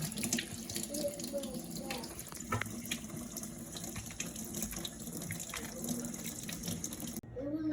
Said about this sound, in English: Always remember to wash your fruit.